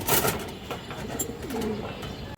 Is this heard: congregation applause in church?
no